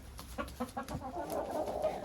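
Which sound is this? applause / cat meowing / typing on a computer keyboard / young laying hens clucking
young laying hens clucking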